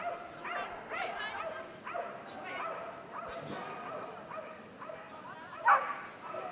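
Dogs yipping and barking excitedly at a Crufts 2020 flyball quarter-final, a busy arena scene with repeated sharp barks and whimpers, mid-distance, under a commentator's voice.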